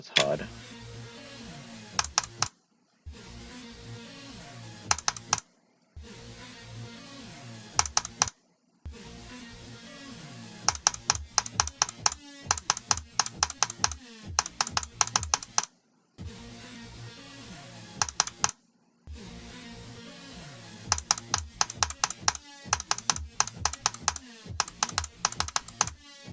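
Rapid keyboard clicking during a video game, with dense bursts of key presses separated by short silent gaps, loud and close.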